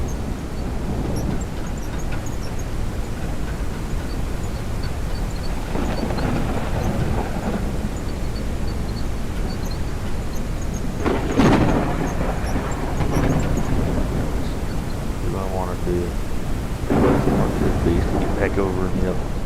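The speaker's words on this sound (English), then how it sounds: "The storm was rumbling outside" A thunderstorm in the mining video game Out of Ore gives heavy low thunder rumbles over constant rain. Several loud crackling peaks rise and fade across the stretch, with a faint voice in the background.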